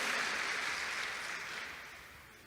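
Church congregation applauding, a soft broad wash of clapping that starts fuller and fades steadily over a couple of seconds, distant and faint with no speech.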